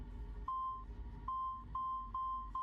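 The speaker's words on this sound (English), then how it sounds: "I'm following the beeping, by the way." Repeated electronic beeps, a sustained tone sounding several times at uneven intervals over low game ambience in Assassin's Creed 2, fairly clear and up front.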